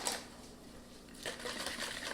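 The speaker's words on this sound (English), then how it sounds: "And I'm just gonna whisk this until it gets thick." A whisk beats a milk mixture for a no-bake lemon lasagna, quick faint rhythmic ticking and scraping strokes against the bowl that pause briefly and then resume, heard with no talking.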